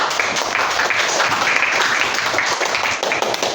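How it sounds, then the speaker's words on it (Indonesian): A classroom applauds a student, a dense, steady wash of clapping from many hands that holds evenly from start to finish, close and fairly loud. "Oh ya, tepuk tangan buat Marisa."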